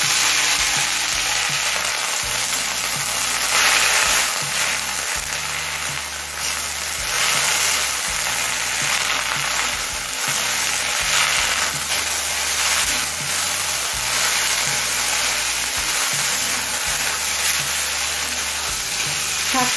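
Drumstick (sajne) greens frying with reddened onions in a pan for dal, a loud, close, continuous sizzle and crackle with soft stirring bumps underneath throughout.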